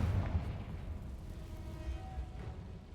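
A Confringo fire spell cast in Hogwarts Legacy bursts into a low, rumbling blast that rolls on steadily for a few seconds at moderate loudness, with no voices over it.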